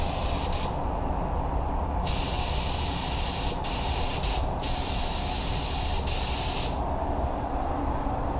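Spray gun laying down a second coat of paint in a full professional car paint job, a steady close hiss that cuts in and out in several bursts over constant background noise.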